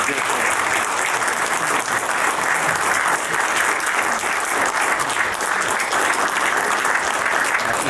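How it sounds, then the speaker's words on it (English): An audience applauds at the close of a winter lecture on writer Michael Shaara, dense and even clapping filling the room loudly for several seconds without pause. "ladies and gentlemen, how about a round of applause?"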